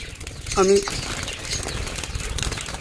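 A female budgerigar's wings flap in a brief burst as it is caught by hand, a short close flutter near the start, then quieter room noise with faint speech in the background.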